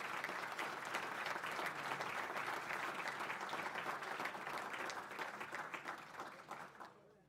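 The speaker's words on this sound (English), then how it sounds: "How about one more round of applause for our entire 2021 class, Hofstra Athletics Hall of Fame." Sustained applause from the audience at the 2021 Hofstra Athletics Hall of Fame induction, a dense steady patter of many hands that holds for several seconds and then thins and fades toward the end.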